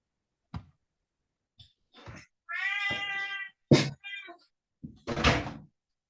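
A kitten meows several times indoors, loud and close, with short separate cries between soft knocks and thuds.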